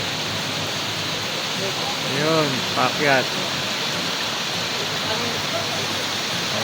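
Digisit Falls in Baler, where water pours down from above, gives a loud, steady, close rushing roar that fills the scene, while a voice speaks briefly over it midway.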